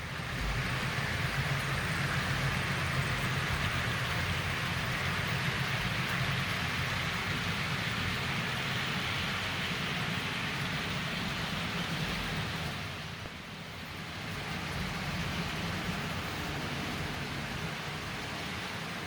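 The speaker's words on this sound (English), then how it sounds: "Here is one of the reversing loops in action." A continuous rushing, rumbling clatter of a small HO-scale model train running steadily on a reversing loop of a multilevel layout, with a brief dip in loudness partway through.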